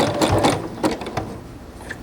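A sewing machine stitching a cotton piping-rope basket, a close, loud run of rapid mechanical needle strokes with short pauses between bursts.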